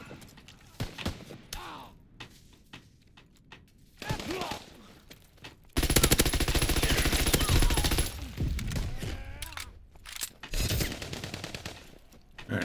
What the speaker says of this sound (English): got all the kills with SMGs